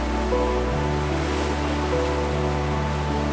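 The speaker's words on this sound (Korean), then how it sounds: "바다는 봐도 봐도 질리지 않고 파도 소리는 끝없이 들려온다." Sea waves washing steadily over a pebble beach on an island, a continuous broadband wash with a low rumble, fairly close and even, with no voices.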